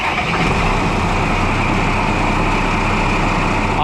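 An overhauled engine idling smoothly without a miss, a loud, steady, even low rumble with a constant tone and no talking over it.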